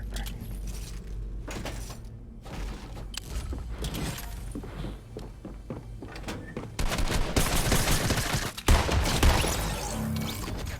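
Fortnite gunfire rattles through the game's soundscape in rapid automatic bursts, with mechanical clatter and door-like slides mixed in, loud and busy across the whole stretch.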